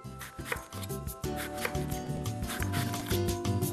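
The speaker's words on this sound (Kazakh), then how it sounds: "Одан кейін екінші бетін турай бастаймыз." A knife slices through pumpkin on a cutting board while making a breakfast dish of pumpkin and apple, with a steady run of soft, rhythmic cuts heard under prominent background music.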